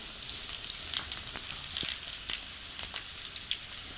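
Garlic and cumin seeds in hot oil give a quiet, continuous sizzle with scattered small crackling pops throughout.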